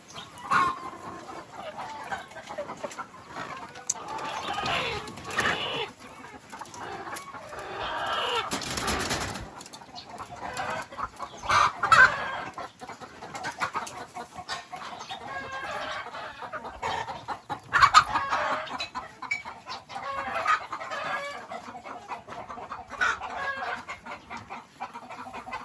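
Chickens cluck intermittently at a farm with caged fowl, with an occasional rooster crow rising above the scattered bird calls; a moderately quiet, outdoor scene with no talk.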